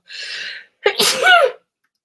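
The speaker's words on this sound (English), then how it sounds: "I think I got to sneeze." A single loud sneeze up close, a hissing breath in followed by a sharp explosive burst with a voiced tail, then silence.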